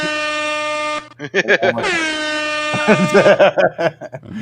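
A loud, blaring air horn blast lasts about a second, then a second horn blast sweeps in as people talk over it.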